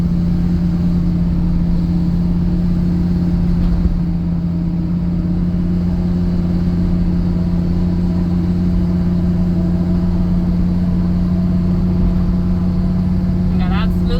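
Steady low drone of a 2007 Ford F250 pickup engine pulling up a hill, heard from inside the cab at constant load, a continuous hum with tire and road noise and no clear speech.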